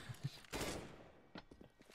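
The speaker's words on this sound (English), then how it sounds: "he'll go down in a hail of gunfire there from Steffa." Gunfire in the CS:GO video game during an ESL esports match: a couple of quick shots, a dense burst of rapid fire, then scattered softer shots, all fairly faint.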